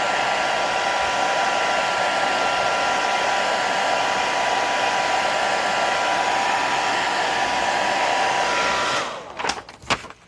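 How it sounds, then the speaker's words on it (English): A hair dryer blowing heat onto Frixion erasable pen ink, a loud, steady whooshing roar that runs continuously for about nine seconds, then cuts off with a few clicks. "So I'm gonna put the heat back to it."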